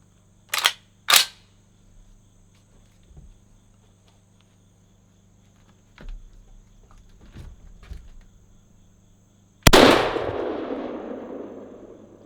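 A Panzer BP-12 G2 semi-auto 12 gauge bullpup shotgun goes through two sharp clicks early on, then some quiet handling clatter, then a single loud blast whose reverberant echo rings out and fades slowly.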